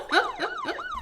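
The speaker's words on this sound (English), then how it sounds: "that's the siren" A siren sound effect played from a soundboard wails in quick rising-and-falling sweeps, about four cycles in a second, fairly loud and alone.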